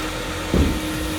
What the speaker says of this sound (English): So vacuum 1, I'll turn that on now.